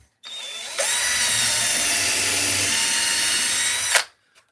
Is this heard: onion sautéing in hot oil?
no